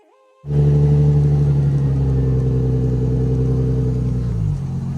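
A Lexus IS300 with a naturally aspirated 2JZ engine on a stock ECU cranks and fires into a loud, close, steady idle after a brief chirp, the rumble holding evenly before the revs dip slightly near the end.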